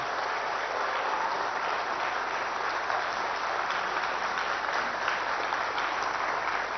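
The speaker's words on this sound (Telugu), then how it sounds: "గట్టిగా చప్పట్లు కొట్టాల్సిందిగా నేను కోరుతున్నా" Loud, sustained applause from an audience at an officers' training valedictory ceremony, a dense steady wash of clapping that holds evenly throughout with no voices over it.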